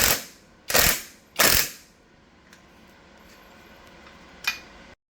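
Tubing on a power tower being bolted down during assembly, a few loud bursts of ratcheting clicks close up, then a faint metallic clink.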